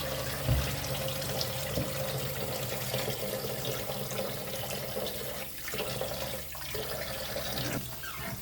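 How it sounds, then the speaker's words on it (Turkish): Sour cherries for jam get washed under a running tap, a steady close gush of water into the sink with light splashes and handling sounds, and no voices. "daha yıkayayım. Bir iki sefer yıkaydım."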